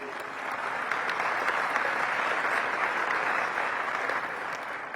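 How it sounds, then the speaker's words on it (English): An audience at a Washington DC Economic Partnership annual meeting gives the mayor a steady round of applause, a dense, even wash of clapping that swells in and holds for several seconds. "Let's give the mayor a round of applause, please."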